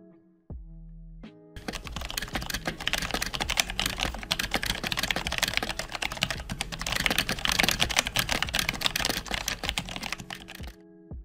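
Rapid mechanical keyboard typing on a Logitech keyboard, a dense stream of sharp clicky keystrokes going on nonstop for several seconds, close and loud.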